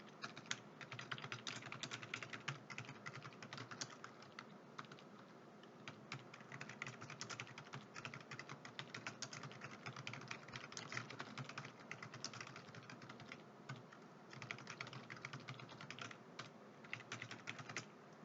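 Rapid, continuous typing on a computer keyboard, dense clicking keystrokes close by with brief pauses, no voices.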